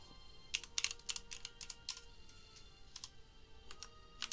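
Keys clatter on a computer keyboard in quick, uneven bursts of clicks, with a single escape key press among them. The typing sits close and moderately loud, with no voices.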